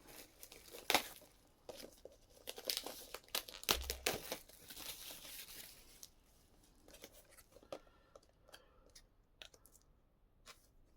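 A small wrapped package with a J card and hard glue is pulled open, giving intermittent close crinkling and tearing of plastic and card, louder at first and then thinning into sparse faint rustles.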